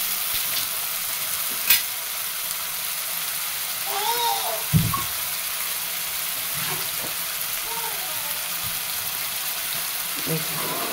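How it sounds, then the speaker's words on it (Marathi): Chopped medium tomato sautéing with onion in a pan, a steady sizzle under spoon stirring and a few sharp clinks of utensil against the pan, with a voice briefly speaking between the strokes. "एक टोमॅटो चिरला मी टाकून घेते. मीडियम साईजचा होता एक टोमॅटो. टाकून घेऊन मला परतून घ्यायचं."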